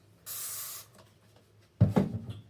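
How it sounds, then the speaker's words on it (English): A short hissing spray of dish soap from a spray bottle, close and moderately loud, followed after a pause by a duller rustling handling sound. "This is just that spray dish soap Maddie's been buying."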